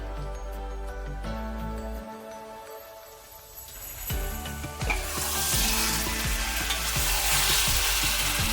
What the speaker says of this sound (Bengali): আমাদের মশলাটা তেল ছেড়ে দিয়েছে, এবার এতে আমরা মাংসটাকে দিয়ে করতে থাকবো।